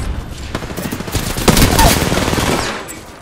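Rapid automatic gunfire from Apex Legends crackles up close in dense bursts that build toward the middle, with a voice speaking faintly in the mix.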